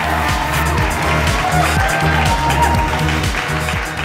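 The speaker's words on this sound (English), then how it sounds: "Ladies and gentlemen, please give them a huge round of applause" An audience applauds and cheers at a Femina Style Diva Pune pageant crowning, a dense, continuous wash of clapping under loud music with a strong rhythmic beat.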